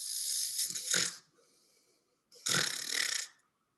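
A person imitates snoring, two loud, rasping drawn-out snores separated by a short quiet breath.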